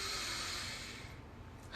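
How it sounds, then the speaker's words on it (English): A long, steady inhale through the nose: a close, airy breathy hiss lasting over a second, fading slightly before a brief louder rush at the end. "We're going to inhale through the nose."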